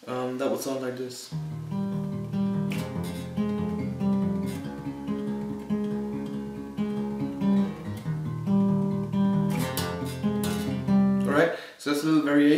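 Acoustic guitar plays a chord variation from a song, with bright picked notes over a steady low fingerpicked bass pattern, close and continuous for several bars without talk.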